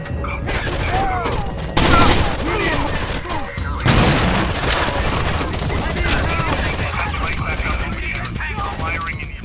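Gunfire and a frag grenade blast in the video game Rainbow Six Vegas 2: loud bursts of shooting with heavy booms near the two- and four-second marks, dense and continuous throughout.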